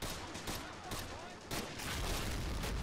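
Mortar and gunfire from a Pacific campaign battle for Shuri Castle in a war video game, dense continuous rumble with repeated blasts and bursts throughout, loud and busy.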